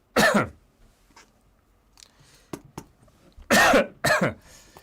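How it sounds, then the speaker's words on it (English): Three loud, rough coughs ring out close to the mic, one early and a pair near the end, with quiet breathing and small noises between. "the cough is gonna kill me tonight"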